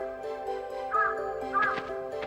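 A crow caws twice in an animated children's Snow White series, two short, harsh calls over a steady background music bed.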